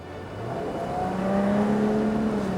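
A three-litre convertible sports car engine revving with its exhaust bypass open, the loud exhaust rising in pitch and holding a strong, throaty roar.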